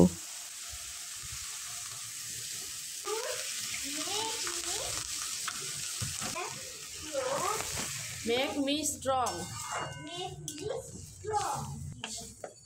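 Sizzling and stirring in a hot pan while cooking muri ghonto with rohu fish head and Gobindobhog rice: a steady hiss with scraping strokes, and a voice talking over it for much of the time.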